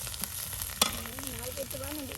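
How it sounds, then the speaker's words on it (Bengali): Spices frying in oil in a pan, a steady close sizzle with a brief stirring clatter partway through and a faint voice-like tone beneath. "যে সুন্দর করে ভেজে নেওয়া হচ্ছে তেলের সাথে এই যে মশলাগুলো।"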